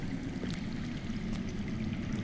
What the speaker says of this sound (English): I hear water. From underground.